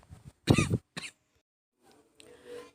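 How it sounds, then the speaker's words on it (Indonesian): A close, forceful cough burst followed by a shorter second cough, then quiet and some faint throat noise. "mohon maaf apabila dalam video ini ada suara batuk-batuk"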